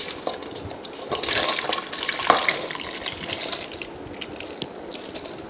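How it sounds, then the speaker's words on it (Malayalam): Water poured from a cup into a pressure cooker for Onam sambar, a steady splashing flow that swells near the middle and tapers off, fairly close with no talk over it. "അതിലേക്ക് 1 കപ്പ് വെള്ളം ഒഴിച്ചു കൊടുക്കാം"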